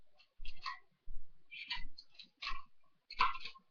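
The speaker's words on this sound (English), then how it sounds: "So we're going to keep combing the wig out." A long synthetic wig bought online is being combed out, giving about five brisk, rasping strokes of teeth dragging through fibre, each lasting roughly half a second, close and clear with short silent gaps between them.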